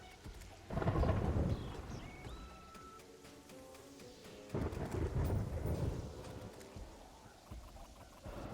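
Thunderstorm weather in Terraria: two loud rolling thunder rumbles, each lasting a couple of seconds, over a steady patter of rain, with no talking.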